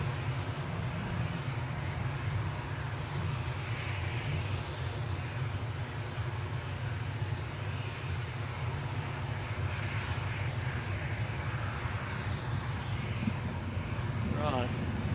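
An Airbus A319 taxiing at Newcastle airport gives a steady, continuous jet engine drone and low rumble at middle distance, with someone talking over it at times.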